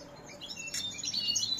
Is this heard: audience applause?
no